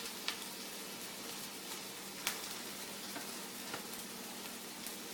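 Onion, corn and tomato fry in a pan with a steady, soft sizzle throughout, broken by a few faint clicks of stirring.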